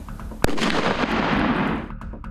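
A firecracker goes off in the hand of a hard plastic mannequin during a test, one sharp loud bang followed by a long crackling, hissing burst that fades out after about a second and a half.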